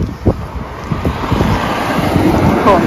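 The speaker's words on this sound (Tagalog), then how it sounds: "Grabe ang lakas ng hangin ay." Strong wind buffets the microphone in gusty low thumps and rumbles, a constant blustery roar throughout with no clear speech.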